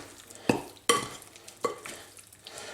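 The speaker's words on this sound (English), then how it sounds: "We'll just give that a bit of a stir now because we want to get all this mixed together." A spoon stirs lemon juice into a tandoori chicken marinade in a bowl, making three distinct wet scraping strokes with soft clinks, close and fairly quiet, without any talking.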